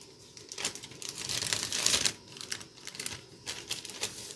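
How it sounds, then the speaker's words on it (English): A plastic bag being handled for painting wood beads, close crinkling and rustling that swells to a louder burst near the middle, then softer scattered crackles. "And I'm going to use a plastic bag."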